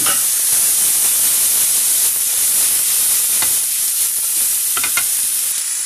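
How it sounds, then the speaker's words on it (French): Lardons and onions frying in a pan for a mushroom tartiflette, a loud, dense, continuous sizzling hiss with occasional sharper crackles and stirring sounds. "quand les oignons ont un peu rissolé, on ajoute les lardons"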